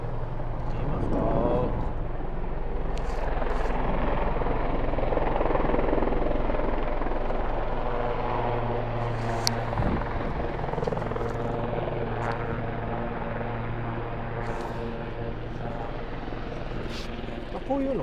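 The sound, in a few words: helicopter landing nearby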